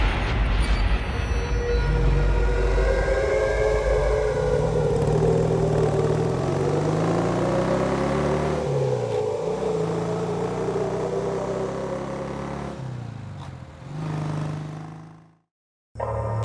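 A motorcycle engine opening up and speeding away as a sound effect in a spoken ghost story, a loud sustained drone rising and shifting in pitch over about fifteen seconds before cutting out abruptly, with no speech over it.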